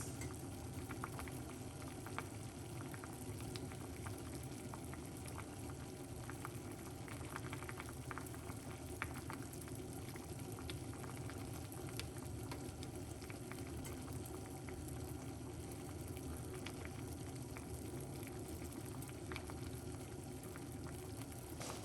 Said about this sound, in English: So it's boiling up a little bit.